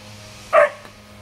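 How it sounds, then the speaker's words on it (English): A single short, sharp dog bark rings out against a quiet background hum. "Pickle's barking at leaf blowers"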